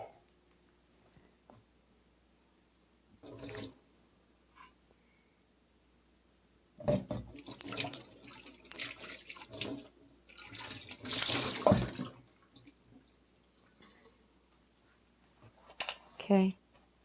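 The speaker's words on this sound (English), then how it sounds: "Let me pour up this water." Water pours into a sink or container while making baked ziti, a few separate gushing pours of several seconds each, with quiet pauses and some handling noise in between.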